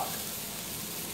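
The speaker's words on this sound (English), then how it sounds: "While we're waiting on our onions to cook" Onions and garlic fry in a pan in a home kitchen, a steady soft sizzle with fine crackle that stays even through the short stretch, with no talking.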